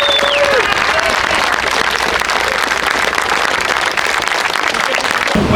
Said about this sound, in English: Give Darryl a big round of applause